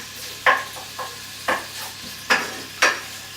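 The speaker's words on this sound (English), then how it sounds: "That can be stirred around, get all the bits separate so they don't stick together." Liver and bacon frying in a pan, a steady sizzle broken by about five distinct scraping stirs of a utensil against the pan, close and clear.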